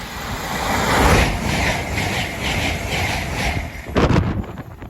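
A train rushes past at speed on the East Coast Main Line at Tuxford, close to a footpath, with a broad roar and rattling wagons, building to a peak and then ending in a burst of clattering near the close.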